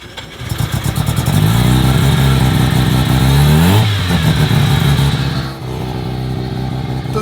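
Adam LZ's drift car engine revs hard up close, a loud sustained roar that climbs, drops sharply and settles back into a rough, heavy idle.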